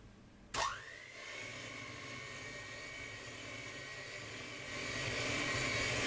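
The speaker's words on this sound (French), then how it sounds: "on va prendre notre batteur électrique, le plonger comme ceci dans la pâte et l'activer" An electric hand mixer beating chocolate brownie batter, starting abruptly with a rising whine that settles into a steady, loud motor hum with a strained high tone, continuing alone and growing slightly louder near the end.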